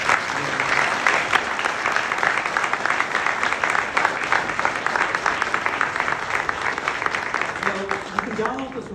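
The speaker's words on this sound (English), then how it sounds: "Please give Stefan a round of applause." Audience applause after a cyber security conference talk, a dense sustained clapping from a full room holding steady for several seconds before starting to thin near the end.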